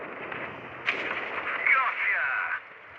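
Tank cannon fire in the World of Tanks video game: a sudden booming shot followed by rumbling game noise, heard under excited talking from a player.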